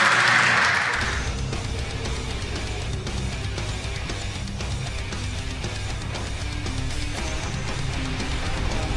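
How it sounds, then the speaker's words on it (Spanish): Applause fills a hall at an entrepreneurship storytelling night, a dense, continuous wash of clapping that holds steady at moderate loudness without talk over it. "Un aplauso, por favor, para Matías y todo lo que nos contó"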